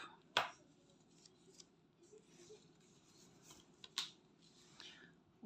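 Scissors snip thread on an embroidery canvas, with two sharp close cuts separated by a few seconds of quiet rustling and soft handling noise.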